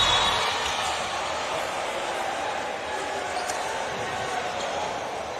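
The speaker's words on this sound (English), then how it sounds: "You hear groans from the supporters, cheers from the opposite side" A basketball crowd at the 2023 Bahamas Games at KGLI, a continuous distant murmur of groans and cheers from both sets of supporters, steady and diffuse throughout.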